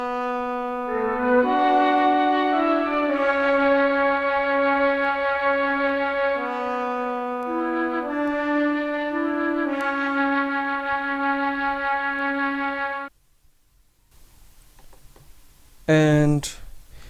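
A hip hop soul sample built with a Decent Sampler flute and a Sinful Orchestra horn plays sustained, layered melodic notes for about thirteen seconds, then stops into near silence before a short, bright tonal burst near the end.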